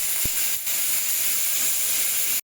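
Salted dried fish coated with turmeric fry in hot oil, making a steady close hiss and sizzle with a couple of brief pops before stopping abruptly.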